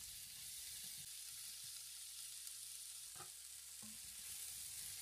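Cucumber and tofu sizzle steadily in a hot pan as they are stir-fried, with a constant hiss and occasional soft knocks of the utensil stirring, no talking.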